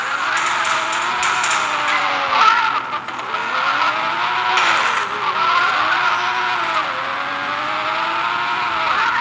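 Car in the video game PUBG, its engine whining steadily while the revs rise and fall, with tire skids and squeals mixed in over several seconds, loud and close throughout.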